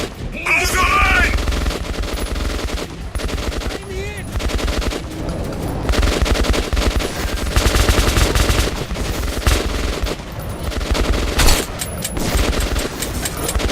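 Rapid machine-gun fire rattles almost without pause in the Metro 2033 video game, loud and dense bursts layered with in-game effects and voices.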